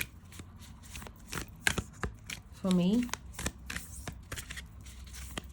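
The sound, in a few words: shuffling bulky Broadway tarot card deck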